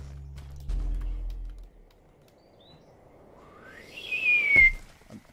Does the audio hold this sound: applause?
no